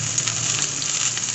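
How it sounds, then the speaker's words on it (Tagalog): Chopped onion sizzling in hot oil in a frying pan while cooking bagoong for kare-kare, a loud, steady, close hiss with no voices. "Lagay lang ako ng sibuyas,"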